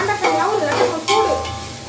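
Vegetables sauteing in a hot pan in a home kitchen, a loud close sizzle with scraping strokes as they are stirred.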